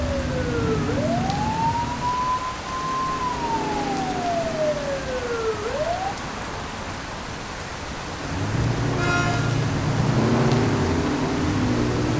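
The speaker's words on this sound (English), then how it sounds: "Turn that siren off." A police car siren in the video game The Precinct gives one slow wailing sweep that rises and falls over steady rain and thunder-like rumble. A heavier engine rumble follows near the end.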